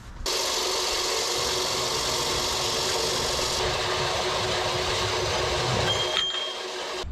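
Steady, harsh grinding or cutting on metal as the wastegate flange is taken off a Cummins turbo destined for a Dodge truck, continuous and close for several seconds before tapering off.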